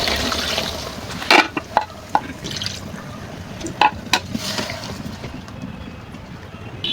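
Water poured into a pan of hilsa fish and taro curry, a continuous splashing, sizzling wash with several sharp clatters of utensils against the pan, close and fairly loud.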